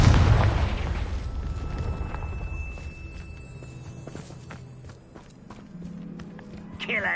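A Confringo blasting spell goes off in the Hogwarts Legacy video game: a loud booming explosion at the start that rumbles and fades over several seconds, mixed with scattered game effects and footsteps.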